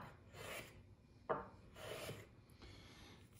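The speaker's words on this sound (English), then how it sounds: "This is called a low block plane. It's a smaller plane. There's a little blade that sticks up here at the bottom." A low block plane takes small shavings off a wooden mallet piece in a few short, quiet rasping strokes, separated by brief pauses, close and faint.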